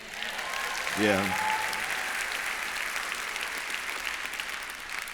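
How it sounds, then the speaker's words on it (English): A large audience at the Bioneers gathering breaks into sustained applause, a broad, steady roar of clapping throughout, with a brief voice calling out near the start. "we should give another round of applause to Nina, to Kelly, to all the folks who are working with Bioneers"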